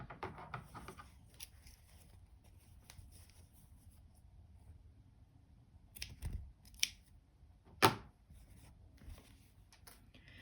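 Scissors snip embroidery thread on the back of a piece of embroidery, giving a few faint, sharp cuts near the end against a quiet background.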